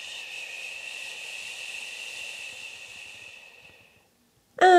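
Slow qi gong exhale voiced as a breathy 'chu', a soft steady hiss lasting about four seconds that thins out and fades to silence, followed by a sudden, brief loud sound at the very end.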